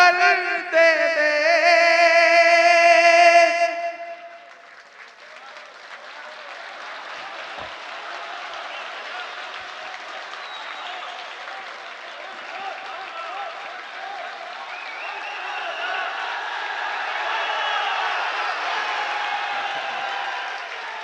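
A crowd at a poetry recital on Palestine breaks into long, sustained applause after a brief sung or spoken voice, the clapping holding steady and swelling slightly for nearly twenty seconds.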